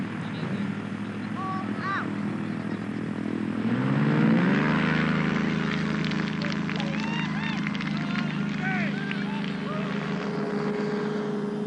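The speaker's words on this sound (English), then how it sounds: "Aero towing is launched for the first time in Africa." A tow plane's propeller engine runs steadily during an aero tow launch of a glider, the first in Africa, droning loud and close with a rising pitch as it speeds up, while voices talk over it.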